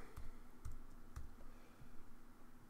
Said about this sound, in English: Because I suck at typing.